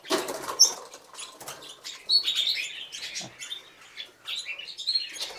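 Parrots at a Bursa breeding facility take off in a flurry of flapping wings, the beating close and brisk, with a few chirps scattered through the short burst of movement.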